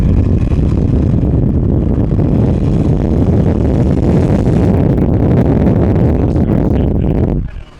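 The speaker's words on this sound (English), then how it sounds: "I have a feeling Joey's about to hit VTEC for the first time." A Honda-style car engine climbs hard into VTEC, a loud, steady roar with heavy wind buffeting that holds for several seconds, then cuts off abruptly at the end.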